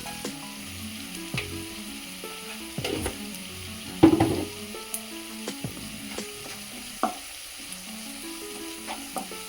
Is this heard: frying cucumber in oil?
yes